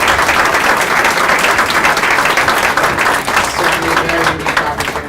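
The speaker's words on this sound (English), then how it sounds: "Please give them a round of applause." A conference audience applauds a panel of sports industry leaders, steady dense clapping that fills the room throughout, loud and sustained.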